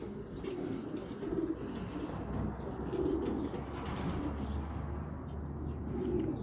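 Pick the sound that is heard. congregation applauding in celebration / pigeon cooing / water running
pigeon cooing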